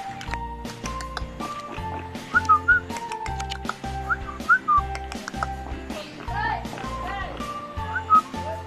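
A voice mimics a myna's morning call with short, sharp whistled chirps in scattered bursts over a steady rhythmic backing.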